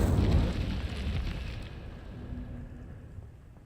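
A fiery burst from the Incendio spell in Hogwarts Legacy, a loud whooshing crackle at the start that quickly fades into a soft, dying rumble.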